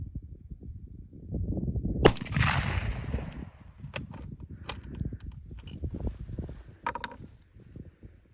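A single sharp gunshot from a Zastava rifle chambered in .375 H&H, loud and close, cracking out over steady outdoor background noise, with a few fainter clicks and rustles of the rifle being handled afterward.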